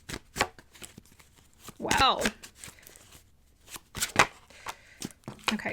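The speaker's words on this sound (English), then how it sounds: "Sorry, these cards are shuffling funny." A deck of tarot cards is shuffled by hand in quick riffling bursts and soft slaps, near and uneven, with a brief spoken exclamation midway.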